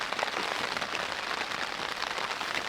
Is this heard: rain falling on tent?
yes